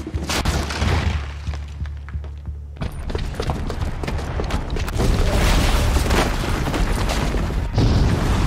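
A bomb booby trap in Horizon Zero Dawn goes off with a heavy boom, followed by a sustained roar of rumbling blasts and debris that builds louder and stays dense for several seconds.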